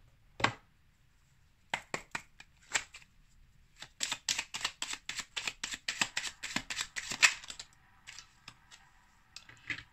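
Tarot cards shuffled close up in soft, quick flicking bursts, sparse at first and then a dense rapid run of riffling taps, fairly quiet with no talking.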